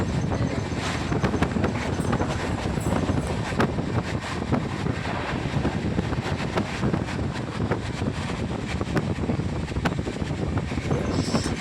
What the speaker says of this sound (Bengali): ট্রেনটার এখন গতিবেগ হচ্ছে একশো সাঁত্রিশ